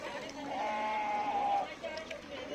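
Sheep or goat bleating once, a drawn-out nasal cry, at the Hubli sheep and goat livestock market, with faint background chatter.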